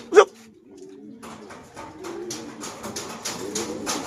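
Pigeons cooing softly in a home loft, with a bird call up close near the start and soft cooing and fluttering after it. Someone talks now and then.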